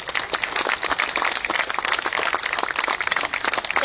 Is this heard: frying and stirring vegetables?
no